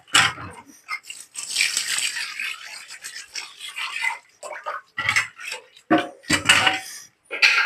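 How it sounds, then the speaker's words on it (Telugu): A spoon scraping and stirring masala through chicken curry in a metal pot, with irregular rasping and clinking strokes that come in bursts with short pauses, close and fairly quiet. "ఇప్పుడు దీంట్లో నేను మసాలా అంతా కలుపుతాను."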